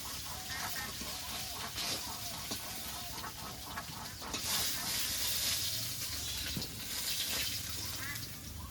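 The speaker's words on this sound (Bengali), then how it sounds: "মাছগুলো আর একটু ভাজা হতে থাকবে" Tilapia fish frying in hot oil, a steady loud sizzle and crackle with bubbling spatter that swells and eases slightly throughout, heard close up.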